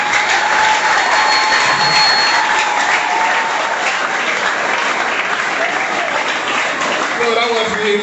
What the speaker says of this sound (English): I don't know what's actually making you people clap this way